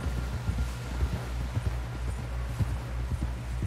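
Horse hooves clip-clop in a steady walking rhythm in Red Dead Redemption 2, close and fairly loud, with no talk over them.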